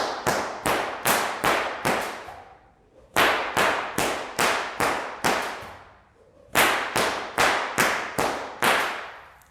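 Loud whip cracks fire in rapid, evenly spaced runs of about six, separated by short pauses, each snap bright and punchy with a quick decay.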